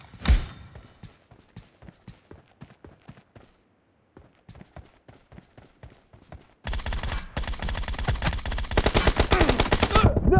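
Gunfire in a shooter video game against bots: a run of sharp, evenly spaced single shots, a short pause, more shots, then a loud, dense, sustained burst of rapid fire to the end.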